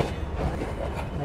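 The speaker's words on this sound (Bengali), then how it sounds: "আমাদের ট্রেন আন্তনগর সাগরদাড়ি এক্সপ্রেস ডিপারচার নিল খুলনা রেলওয়ে স্টেশন থেকে" Sagardari Express, a Bangladesh Railway intercity train, pulling out of Khulna station, heard as a steady rumbling rail roll with faint wheel clatter and a low background murmur throughout.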